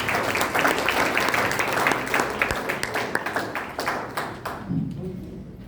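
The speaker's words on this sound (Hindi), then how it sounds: "इन दोनों के लिए एक बार फिर से जोरदार तालियां।" A room full of people at a children's programme clapping steadily for several seconds, dense and lively, then thinning out and fading toward the end.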